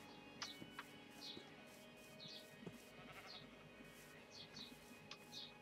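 Sheep bleating in the Minecraft video game, several short bleats spaced out over a steady low background hum, fairly quiet with no talking.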